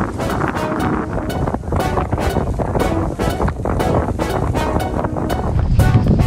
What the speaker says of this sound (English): the wind is sure different on the ridge